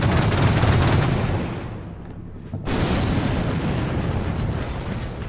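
Sustained gunfire and explosions from a vehicle in the Combat Mission Shock Force 2 wargame, set in Syria with NATO forces: dense, loud, continuous battle noise with a brief dip in the middle before the firing resumes at full strength.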